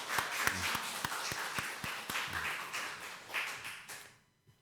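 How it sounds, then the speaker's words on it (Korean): A church congregation claps together to welcome a newly registered member during a Sunday service, a moderately loud run of overlapping claps that holds steady for several seconds, then fades out at the end. "박수로 환영하겠습니다"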